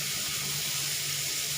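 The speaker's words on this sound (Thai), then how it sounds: "ล้างน้ำที่3เนาะ" Food rinsed in water for the third wash while cooking a Thai bamboo-shoot and mushroom dish, a steady close splashing and running-water wash without pause.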